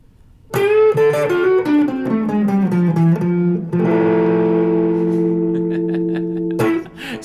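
An electric guitar plays a descending lick heavy with distortion and echo, then holds a ringing chord before a final struck note.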